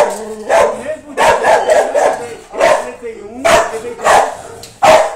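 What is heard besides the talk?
dogs barking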